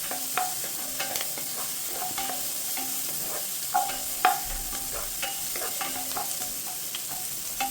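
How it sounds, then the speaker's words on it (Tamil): Green capsicum stir-fried in a pan gives a steady close sizzle, broken by irregular clicks and scrapes from stirring. "So let's cook the green capsicum."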